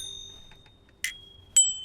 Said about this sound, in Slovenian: moji zvonci delajo cin-cin